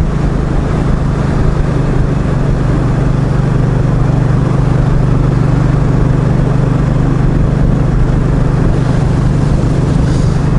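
A motorcycle engine holds a steady, loud drone throughout a summer cruise ride, with constant road and wind rush and no change in revs.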